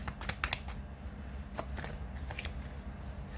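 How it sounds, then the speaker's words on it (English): Tarot cards being shuffled, bent slightly as they riffle, give a run of crisp, irregular papery flicks and snaps up close, with no talking over them. "today I seem to be shuffling my cards rather weirdly because I keep kind of bending them over"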